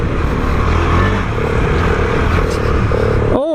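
A KTM 390 Adventure motorcycle being ridden, its engine note droning steadily with wind rush and road noise close up, ending in a brief rising whine.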